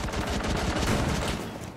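Rapid gunfire rattles in Rainbow Six Siege, a loud, close burst of automatic shots that runs continuously for a couple of seconds before tapering off.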